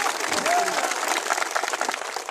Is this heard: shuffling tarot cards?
no